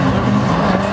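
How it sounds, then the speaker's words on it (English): A turbocharged Mazda MX-5 Miata drift car hooks hard through a corner, its engine roaring loud and steady with tyre squeal mixed in, close and continuous for a second. "That MX-5 turbo hooking through there."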